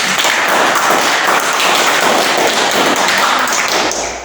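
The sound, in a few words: applause for a class group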